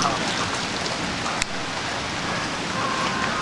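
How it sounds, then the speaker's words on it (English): Rain falling steadily in a backyard during a thunderstorm, a dense even hiss of drops on surfaces with one sharp click partway through, close and continuous without talk. "It's starting to get rained on."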